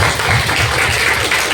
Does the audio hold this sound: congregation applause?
yes